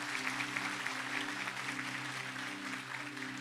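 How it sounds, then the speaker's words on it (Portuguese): A church congregation applauds the Lord together at the close of a sermon in an ADVEC assembly in Caxangá, Pernambuco, steady dense clapping filling the room for several seconds with a low musical hum underneath. "Você pode aplaudir o Senhor?"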